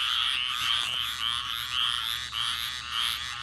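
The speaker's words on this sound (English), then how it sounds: "We have thousands of frogs of all sorts of shapes and sizes that make the biggest ruckus you could ever imagine." A dense chorus of thousands of frogs of many kinds and sizes croaks and trills continuously after a rainstorm, loud and steady with pulsing waves.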